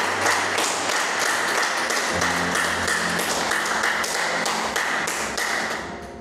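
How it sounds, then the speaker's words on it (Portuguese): A church congregation claps during a sermon, a loud, steady run of evenly spaced claps close by that thins and fades toward the end. "Pode aplaudir o Senhor Jesus"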